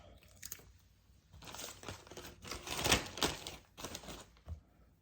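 Garden peppers being cut and sliced on a board, tops removed and halves pulled apart, giving a run of crisp crunchy snaps and knife strokes at close range with no talking.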